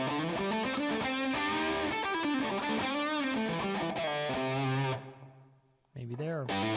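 Electric guitar played through an overdrive/distortion pedal, a thick saturated chord passage ringing loud and steady, then a brief fade before another strummed phrase cuts back in.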